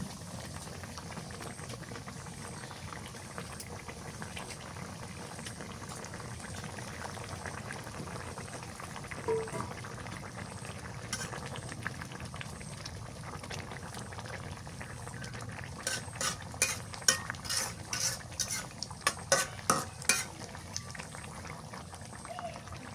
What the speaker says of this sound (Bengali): শাকের তরকারিটা বলা ফুটে গেছে এবার ভাজা মাছটা দিয়ে দিই